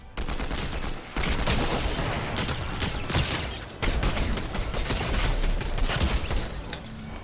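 Rapid, loud gunfire from a video game rattles on almost without pause in dense bursts, with a short break near the middle. Nobody speaks over it.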